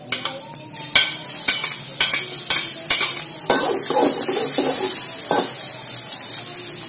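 Garlic and shallots in hot oil are stirred with a utensil, sharp scraping knocks against the pan in the first seconds giving way to a loud, continuous crackling sizzle.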